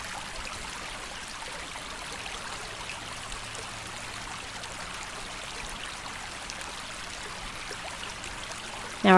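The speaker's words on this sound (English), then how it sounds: "Just listen to the creek" A creek flows outdoors with a steady, even rush and trickle of water that holds at a constant level throughout, with no voices.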